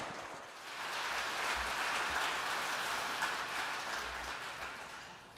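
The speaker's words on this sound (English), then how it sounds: "Round of applause." A large crowd applauding at a Sunday memorial tribute, steady dense clapping that swells and holds like a wash of rain, fairly distant and even, with no voices over it.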